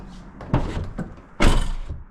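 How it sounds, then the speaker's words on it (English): Door of a 2014 Ford Mustang GT being shut after window adjustment, two solid thunks close by, the second louder and fuller as the door seals. "when I close the door"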